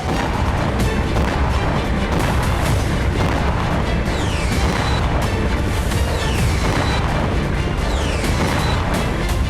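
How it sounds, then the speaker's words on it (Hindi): Explosions from Ukrainian strikes in Crimea, a continuous loud barrage of deep booms and blasts rolling one after another with dense rumbling throughout and no break or voices. "क्रीमिया में यूक्रेन ने एक के बाद एक इतने धमाके किए"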